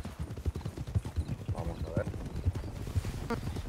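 Horse hooves at a large ranch in the video game RedM, a steady clip-clop beating at a walking pace under people talking, with a faint whinny near the end.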